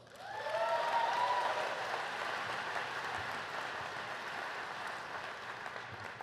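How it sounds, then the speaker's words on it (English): Graduating business-school class and audience clapping together in a sustained burst of applause, loud and dense from the start and holding steady, with a few cheers rising early on and no talk over it. "So give a round of applause for yourself."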